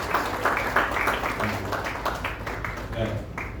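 A congregation claps together during an Easter Sunday church service, rhythmic clapping running steadily under a voice speaking over it.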